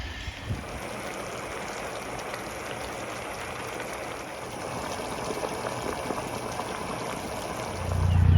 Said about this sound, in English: While the tank filled up with water